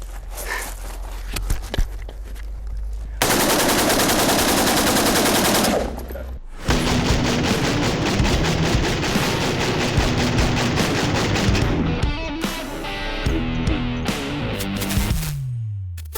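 Rapid automatic gunfire from a first-person shooter video game, loud bursts of shots separated by brief pauses, with footstep-like clatter and game sound effects mixed in.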